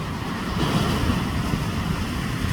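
Steady rushing wash of East Sea surf on the Gangwon coast of Korea at sunrise, a constant roar of breaking waves with some wind noise on the microphone.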